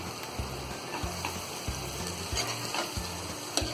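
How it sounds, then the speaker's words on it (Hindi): Eggs and spinach fry in a pan for a spinach egg bhurji, with a steady sizzle broken by repeated scraping stirs of a spatula, close and fairly loud with no talking. "तो अंडों को हमने यहाँ काट लिया है, ये डाल देंगे और इसे अच्छी तरह मिक्स कर लेंगे।"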